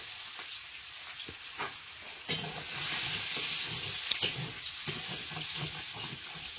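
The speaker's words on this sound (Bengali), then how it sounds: "একটু ভাজবো লাল পাতা দিয়ে" Greens with red leaves frying in oil with garlic, onion and chilli in a wok, a steady close sizzle broken by a few sharp clacks of stirring, no voices.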